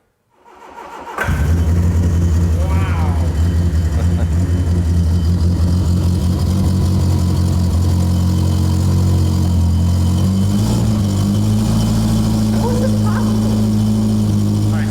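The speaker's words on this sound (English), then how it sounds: "we're finally getting the car running" A 1979 Triumph Spitfire, long parked in the woods, cranks and fires up, then runs loudly and steadily near the listener with a rough idle that shifts slightly, while voices talk faintly over it.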